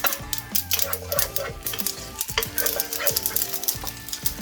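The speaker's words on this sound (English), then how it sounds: "Right, let's start the pot. Curry leaves in." Curry leaves hit a hot pot for a Keralan fish curry, crackling and sizzling loudly up close with scattered pops and stirring scrapes throughout.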